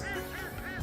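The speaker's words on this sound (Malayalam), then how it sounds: "താറാവുകൾ" Ducks in a paddy field give short, nasal honking calls that overlap in a loud, continuous close-up chorus.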